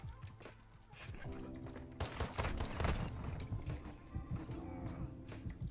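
Gunfire in a Modern Warfare II multiplayer match, dense bursts and scattered shots crackling through busy game noise, loudest in the middle stretch, with a voice talking over parts of it.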